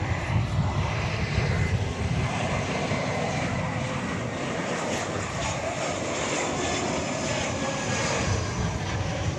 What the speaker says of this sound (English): there's Flight 1504 coming in from LAX and Airbus A321